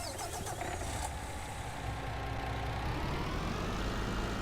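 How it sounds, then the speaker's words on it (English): A small Fiat tractor engine in Farming Simulator 19 cranks and catches, then settles into a steady, loud, low mechanical rumble that continues with no speech. "Yeah, that little Fiat tractor's got a nice burgle to it."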